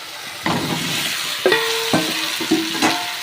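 Taro pieces fry in a hot pan with turmeric and chili powder, a busy sizzle broken by several sharp metallic scrapes and clanks of a spatula stirring against the pan, close and fairly loud, without talk.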